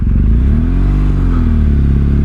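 A motorcycle rides along a road, its engine a loud, steady, close drone with a low rumbling throb and rushing wind noise throughout.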